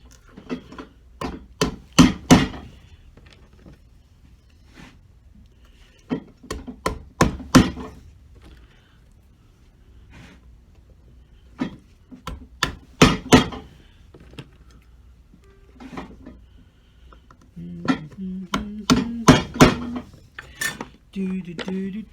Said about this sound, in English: And then we secure it with some threaded nails.